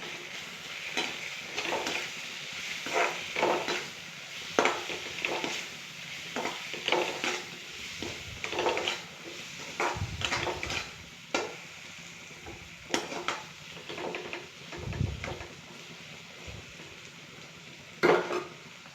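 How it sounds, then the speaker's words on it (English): Okra masala sautéed in a pan, with repeated scraping and stirring strokes over a steady close sizzle, the spoon knocking now and then against the pan. "Now add salt as per your taste and 1 spoon of basin powder, and again saute it well."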